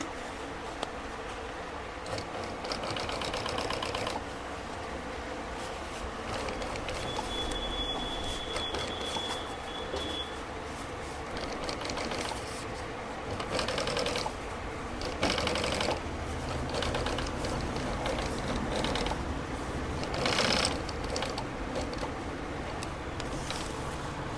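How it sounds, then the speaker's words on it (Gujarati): An industrial sewing machine stitches black thread into a motorcycle seat cover for a Splendor, a steady continuous mechanical whir that runs throughout at moderate level, with louder bursts now and then. "હવે આપણે આ ચાપ સિલાઈ મારી છે, તમે જોઈ શકો છો ગાઈસ."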